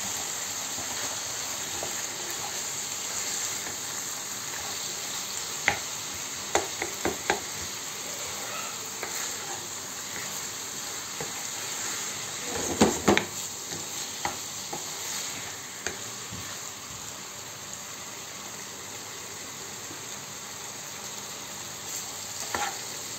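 Chicken gravy mixed with ketchup is stirred and fried in a pan: a continuous hissing sizzle with repeated scraping clicks of a spoon, a denser burst of stirring near the middle, no talking.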